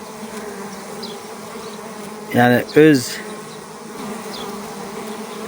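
Honey bees drone in a constant buzz at the hive while someone speaks two short words over it.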